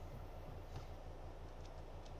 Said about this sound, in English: That is a group of bogies going by.